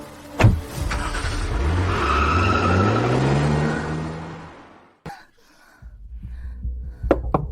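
A car pulls up fast and skids to a stop with a loud tire squeal and engine roar, then a door thump and quieter clicks follow.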